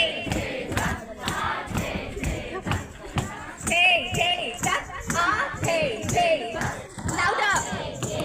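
A group of people loudly yells a rhythmic syllable chant in unison, the repeated short bursts forming a steady beat, with some children's voices mixed in.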